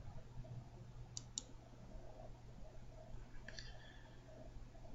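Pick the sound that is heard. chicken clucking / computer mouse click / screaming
computer mouse click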